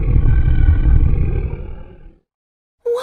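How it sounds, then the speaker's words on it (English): A beast's loud, deep roar rumbles for about two seconds and then cuts to silence, before a brief new sound begins at the very end. "What's that terrible noise? Asks Beauty, The beast is coming"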